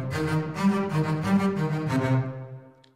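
Double spiccato strings from the 8Dio Century Ostinato sample library, a string ensemble playing a rhythmic repeated pattern of short bouncing bowed notes in pairs, sustained and fairly loud, with a short decaying tail and no talking.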